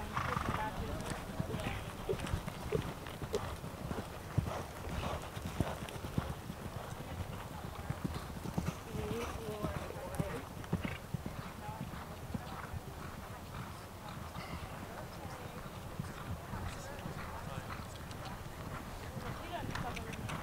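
Several horses canter around a riding arena, their hoof clip-clop steady and continuous throughout, with an occasional whinny and an instructor calling out commands over the hoofbeats.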